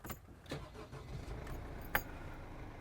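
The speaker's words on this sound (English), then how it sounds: "just listen to the sound the engine makes." An Auto-Sleeper Stanton motorhome van engine starts up and settles into a quiet idle, with a sharp click partway through; fairly faint and heard alone without speech.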